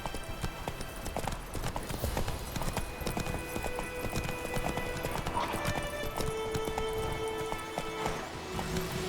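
Hooves of Roach, the horse in The Witcher 3, galloping in a fast, dense clip-clop rhythm that runs steadily throughout, close and loud over game ambience.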